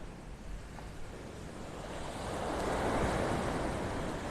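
Ocean surf rolls in on Vanderbilt Beach in North Naples, Florida as a steady broadband wash. It swells gradually louder toward the end, with some wind noise and no voices.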